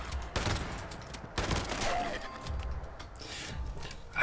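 Shotgun fire in Fallout 76, a few sharp, fairly quiet blasts spaced apart, mixed with other game noise and faint background sound.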